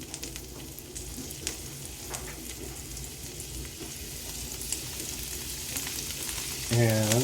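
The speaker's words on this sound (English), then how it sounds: "I'm going to saute these." Chanterelle mushrooms sautéing in butter, a steady close sizzle with occasional small pops and spatula ticks, a brief low hum at the very end, and a single spoken word in the clip.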